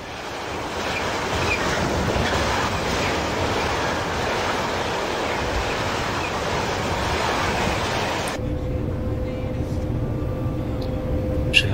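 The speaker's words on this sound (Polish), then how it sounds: "Wagonie jest głośne, a ta lokomotywa jest tak super wyciszona." Freight wagons hauled by an ET22 locomotive in the MaSzyna train simulator give a steady, loud rolling roar with broadband rumble. The noise drops abruptly to a quieter hum near the end.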